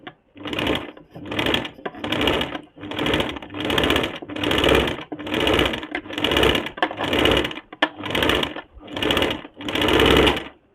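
Sewing machine stitching a curved neckline on a kurti: a steady run of about twelve rhythmic whirring bursts, close and evenly paced, with no voices.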